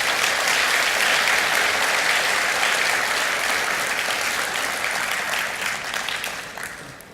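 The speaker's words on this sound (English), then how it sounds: "Let's give a round of applause to all those people." Sustained audience applause fills the hall at a geophysics conference opening session, dense and steady for several seconds before gradually thinning and fading toward the end.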